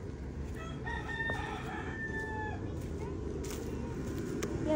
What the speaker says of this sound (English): Pet the chicken.